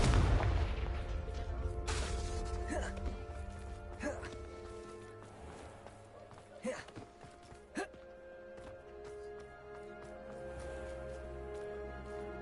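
Explosion spells Bombarda and Confringo go off in Hogwarts Legacy, a series of sharp booms and crackling bursts over a low rumbling game soundscape, with voices heard between the blasts.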